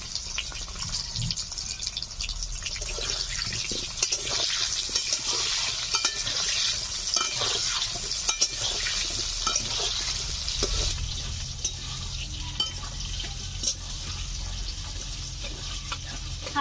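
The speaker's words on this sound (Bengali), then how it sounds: "এই একই সঙ্গে গাজরগুলো হালকা করে ভেজে নেব।" Carrots lightly frying in oil with a little salt, giving a steady close sizzle with faint stirring scrapes and drips that holds for the whole stretch.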